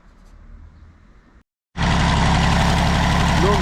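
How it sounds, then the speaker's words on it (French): A rebuilt Peugeot 103 moped engine starts after a short quiet gap and runs loud and close, its small two-stroke buzz steady and continuous, following a fainter hum before the gap. "Donc voilà le moteur qui tourne, donc tout est nickel."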